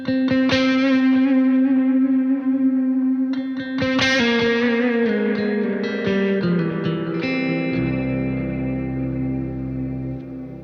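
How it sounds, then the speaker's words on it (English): Ambient electric guitar drenched in reverb and delay, sustained chords and plucked notes ringing out and trailing into long echoing tails, loud and alone. "It's about allowing the reverb and the delay to dissipate and breathe"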